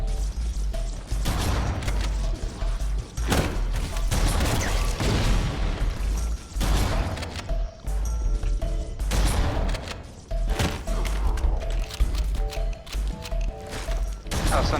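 Gunfire in Halo: Combat Evolved rattles almost nonstop in loud, dense bursts, with heavy thumps, booms and mechanical clanks layered over a busy game soundscape.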